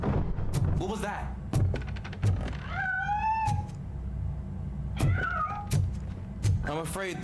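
A cat meows repeatedly in the video game RoboCop: Rogue City, several loud, drawn-out cries spaced across the scene, broken up by dull thumps and knocks.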